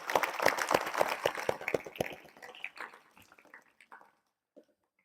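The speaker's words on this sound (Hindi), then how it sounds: "एक बार हम सभी उनको दिल से धन्यवाद देंगे तालियों के माध्यम से" Hand clapping from a school gathering at a yoga session in Rajasthan, rapid overlapping claps that are fairly loud at first, then thin into a few scattered claps and trail off into near silence.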